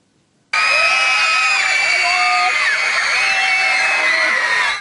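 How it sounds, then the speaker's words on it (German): Dense crowd of teenage fans screaming at a pop star autograph session, a continuous wall of high-pitched shrieks starting abruptly after a short silence and holding loud throughout. "Sie schreien sich die Seelen aus dem Leib."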